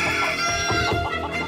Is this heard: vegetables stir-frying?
no